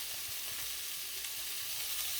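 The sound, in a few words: fajita filling frying in a pan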